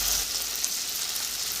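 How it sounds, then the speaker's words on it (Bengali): Tomato and ginger masala frying in hot oil in a pan, a soft, steady hiss and crackle of sizzling, fairly quiet and close, with no talking. "এটাও 30 সেকেন্ড ভেজে নিই, যতক্ষণ কাঁচা গন্ধ না চলে যাচ্ছে।"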